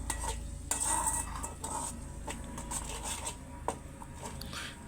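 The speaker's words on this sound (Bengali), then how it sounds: "আমি এটা মশলার সাথে কিছুটা সময় কষিয়ে নিব।" Mashed chepa shutki, a fermented dried fish, cooks in a pan with turmeric, chili and salt, stirred with repeated utensil scrapes and clinks over a low sizzle, close up and with no speech.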